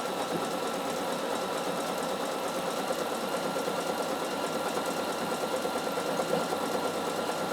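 A Bernina sewing machine stitching fabric in side-to-side free-motion passes, giving a fast, steady mechanical whir and chatter that runs evenly and close-up throughout, with no talk.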